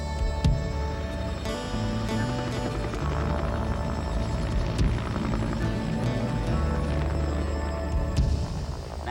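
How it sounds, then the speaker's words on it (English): An army helicopter flies overhead with a steady, loud rotor drone and engine whine that holds throughout, close and continuous with no one talking. "the 3 warriors are flown back to Ganawagi by army helicopter"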